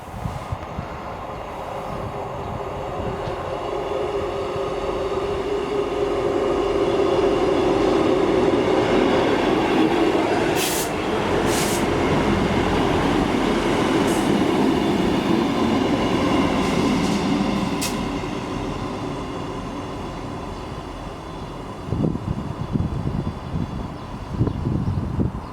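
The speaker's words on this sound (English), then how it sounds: "Just arriving in now, this is a class 158, this is the 1558 from Cowdenbeath to Edinburgh Waverley." A Class 158 diesel train pulls into South Gyle station on a Cowdenbeath to Edinburgh Waverley service. A long rumble swells as it draws near and then eases off, with wheel clatter, a few brief squeals, and no voices.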